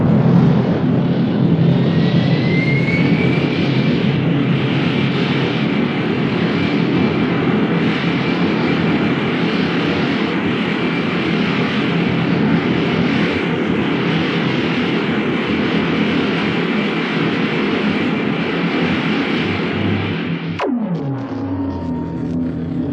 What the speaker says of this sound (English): Tower to Captain, rocket ship Star of Polaris. You've been cleared for takeoff.